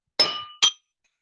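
A small bell rings twice, bright and metallic: one longer ring, then a shorter one, close up and otherwise quiet.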